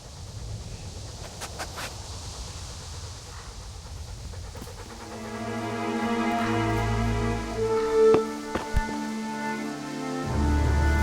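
A dog pants steadily while sniffing in the medieval video game Kingdom Come: Deliverance, close breathy panting over a background of low rumbling ambience and tonal game sounds, with no speech.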